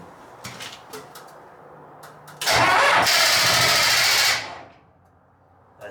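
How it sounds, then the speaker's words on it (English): The generator engine on an old railcar cranks on a borrowed jump pack and fails to catch. A few faint clicks come first, then about two seconds of loud, steady whirring close by that cuts off abruptly. "So I borrowed a jump pack and tried to get the generator going."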